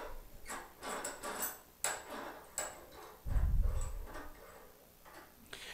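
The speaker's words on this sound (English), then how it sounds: "So I can put this in my vise." A woodwind key lever is clamped into a bench vise at a repair bench, with a run of sharp metallic ticks and clicks, then a brief low thudding rumble, followed by a few more scattered clicks.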